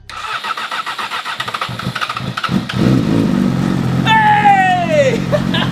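A Yamaha motorcycle engine cranks with a rapid rhythmic stutter before catching and settling into a steady, fairly loud running tone, with a brief rising whine near the end.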